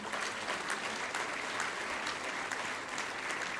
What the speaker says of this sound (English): I request you all to give a huge round of applause and welcome